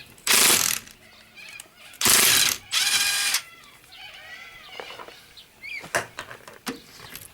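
Makita power tool working on the rear brakes of a Subaru car wheel: two loud whirring bursts of about a second each, followed by lighter mechanical clicks and rattles.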